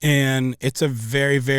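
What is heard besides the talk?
No everyday noise stands out behind the speech.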